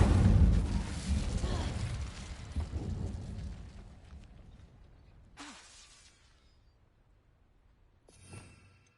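Incendio fire spell cast in Hogwarts Legacy, a loud roaring burst of flame that fades out, followed by two shorter sharp flare-ups spaced a few seconds apart.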